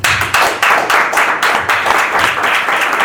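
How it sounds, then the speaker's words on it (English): A small class in an NLP training session claps for two people, a close, loud burst of hand claps with a distinct pulsing rhythm, individual claps standing out clearly across the whole stretch. "So I'd like to give a huge round of applause for Eric and Matt."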